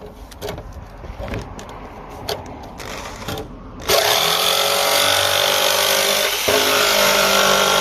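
A power saw cuts through a sheet of plexiglass, starting abruptly about halfway in as a loud, steady, high-pitched whine after quieter clattering handling noises, with a brief dip near the end.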